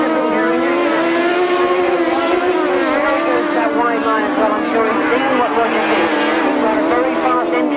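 Grasstrack sidecar racing outfits at a 1994 Lincolnshire meeting scream continuously into a bend, their engines loud and sustained with wavering pitch as several machines pass together, while a commentator talks over the roar.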